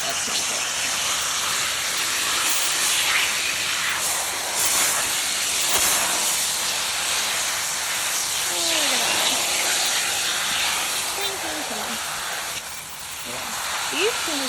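A garden hose sprays water onto non-leather horse flysheets, giving a steady, loud hiss that runs almost continuously with small shifts in intensity, while a voice briefly chirps over the spray.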